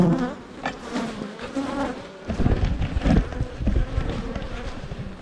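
Honeybees hum steadily around an open beehive during a hive inspection, a dense continuous buzz close by with occasional louder swells as insects pass near.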